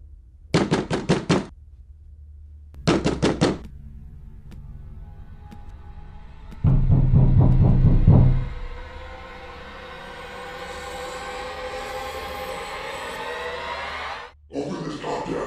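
Fists pound on a door in rapid bursts of heavy banging, three loud clusters of thumps separated by pauses, close and forceful over a low rumbling background.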